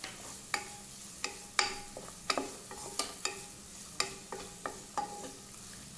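Chopped ginger is stirred into sautéing onions for a carrot ginger soup, the spatula scraping and tapping the pan about a dozen times in a loose rhythm over a soft, continuous sizzle.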